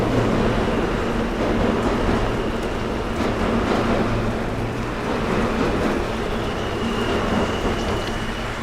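A train rumbles past in New York City on a rainy day, a loud, continuous low roar with faint metallic squeals and rain hiss mixed in, close by and steady throughout with no talking.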